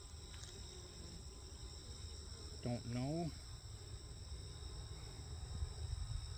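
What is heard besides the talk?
honey bees buzzing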